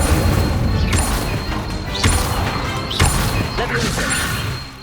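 An Incendio fire spell is cast in a Harry Potter video game: loud repeated whooshing bursts and crashing impacts, roughly once a second, over busy game effects and speech.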